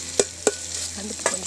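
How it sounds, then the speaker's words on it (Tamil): Tomatoes sizzle in an oiled pan while making egg biryani, with a steady frying hiss broken by three sharp scraping stirs of a spoon, close by. "இப்போ தக்காளி போடலாம் ஃப்ரெண்ட்ஸ்."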